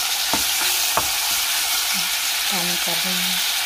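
Steady broadband sizzle of salted meat frying in a pan, with a few sharp utensil clinks and scrapes and some faint tonal squeaks near the end.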